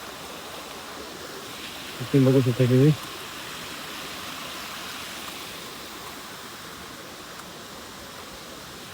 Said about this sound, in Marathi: मस्त पाण्याचा आवाज